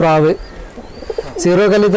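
A racing pigeon coos loudly and close by, two strong throaty calls separated by a quieter gap with small shuffling noises.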